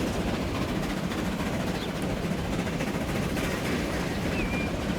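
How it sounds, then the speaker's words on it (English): A train running in the Transport Fever 2 video game gives off a steady, even rumble with a faint high whine, continuous at moderate distance and free of talk. "That's a happy little train."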